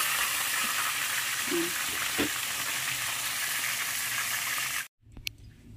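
Food sizzles steadily in a frying pan with a couple of brief stirring clinks, then the sound drops out suddenly before a quieter sizzle returns.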